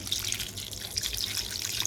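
Lukewarm water pours steadily over goat trotters being washed with wheat flour for mutton paya soup, a continuous close splashing trickle with a faint low hum beneath.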